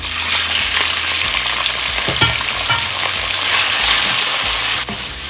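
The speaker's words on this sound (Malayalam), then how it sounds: "എടുത്ത് വെച്ചിരിക്കുന്ന ചിക്കൻ ഇട്ട് കൊടുക്കാം." Chicken dropped into a hot pan with garlic and cumin sizzles and spits steadily, a loud continuous frying hiss with occasional stirring clicks and scrapes, and no talking.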